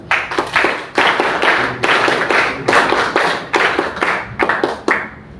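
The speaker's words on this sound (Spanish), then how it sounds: "Lo recibimos con fuertes palmas a ti." Rhythmic group clapping at an APRA party event, welcoming a speaker to the podium; loud, close bursts of claps in uneven waves with brief gaps between them and no voices.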